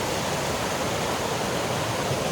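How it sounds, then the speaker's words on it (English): Comer's Creek Falls pours in a dense, steady broadband rush, close and loud with no voices. "We're here at Comer's Creek Falls."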